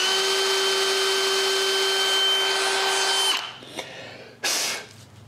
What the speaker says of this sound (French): je commence par un trou pour le corps de la vis, suivi d'un trou pilote pour les vis elles-mêmes